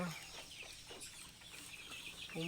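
Free-range village chickens, a flock of about 200 young birds on a farm, cluck softly in scattered bursts, faint and at a moderate distance, with a low background hum.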